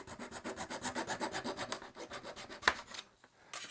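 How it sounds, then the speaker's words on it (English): A miter saw in a miter box cutting a small piece for a Space Marine Gravis shoulder pad conversion, a quick run of rhythmic rasping strokes that breaks off near the end, close and alone. "get your miter saw and your miter box"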